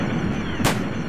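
A single sharp gunshot rings out over a dense background of trailer music and ambience.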